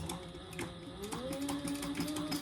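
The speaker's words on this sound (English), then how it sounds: "I'm just sewing this at a 1/4 inch seam allowance" A sewing machine runs a quarter-inch seam on a fabric tote bag using Tech 45 thread, giving a steady close mechanical whir with rhythmic needle clatter throughout, and no talking.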